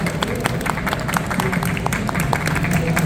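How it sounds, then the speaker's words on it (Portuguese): A small audience claps for interviewees at the close of a Portuguese-language talk on accessible storytelling, a steady spatter of applause across the whole stretch, fairly distant and thin. "Podemos encerrar com uma salva de palmas para os nossos entrevistados"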